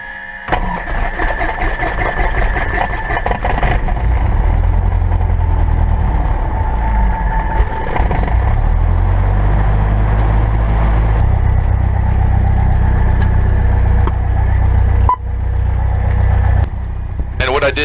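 A Cessna 172 Skyhawk piston engine cranks, catches and settles into a loud, close, steady run, with a voice speaking over it.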